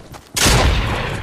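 Gunfire in the Fortnite video game: a sudden loud burst of rapid shots after a quiet start, sustained and booming for about a second.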